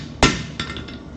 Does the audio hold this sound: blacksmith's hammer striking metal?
yes